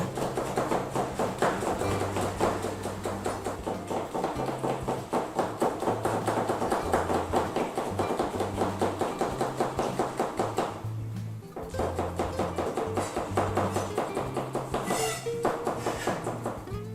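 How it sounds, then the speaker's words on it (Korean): A knife thinly slices cheongyang chili peppers on a board during a large-batch military cooking class, giving fast, regular tapping chops that run almost continuously, close and crisp, with a brief pause midway. "청양고추는 모양대로 가능하나 가늘게 썰도록 하겠습니다"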